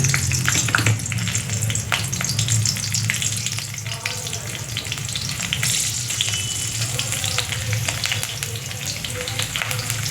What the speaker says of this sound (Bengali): তারপর আমি তেলটা গরম হয়ে গেছে, কালো জিরা দিয়ে দিচ্ছি অল্প করে, তারপর কাঁচা লঙ্কাটা দিয়ে দিচ্ছি